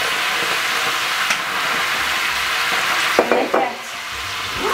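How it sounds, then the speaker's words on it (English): A hot pan used for searing pork loin is deglazed, giving a loud, dense sizzle that flares into a few sharp bursts near the end before settling slightly, with no talking. "now what we're going to do is we're going to deglaze the pan"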